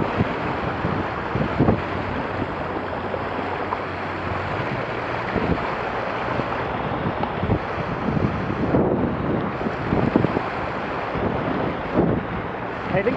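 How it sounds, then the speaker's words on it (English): Strong wind gusts roar across the microphone on open water aboard a Laser 2 sailing dinghy, steady and loud throughout, with splashing and a few faint voices in the background. "There's some gust coming"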